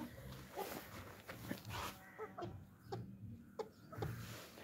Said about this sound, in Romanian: Asta este foarte bună cloșcă, găina asta, de cochinchila negru.